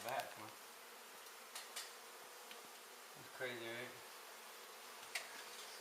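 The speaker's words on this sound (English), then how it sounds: "Got so many bees crawling on my back." Honey bees buzz around an exposed indoor hive during a removal, a faint steady hum with a few brief louder passes close by, while someone speaks briefly.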